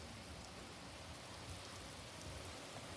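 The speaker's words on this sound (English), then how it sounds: "It's raining sideways." Heavy storm rain driven sideways by wind, a dense steady hiss of drops on surfaces, faint and continuous with no voices.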